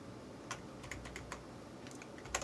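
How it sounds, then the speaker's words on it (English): Typing on a computer keyboard, a quick burst of light key taps in an uneven rhythm, close and fairly quiet, with no voices. "Let's actually type out 10."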